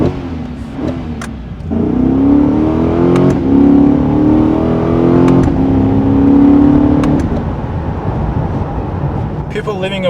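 A 2023 Corvette C8's engine accelerates on an open road, a loud sustained drone rising in pitch over several seconds with brief shifts between, with talk over parts of it.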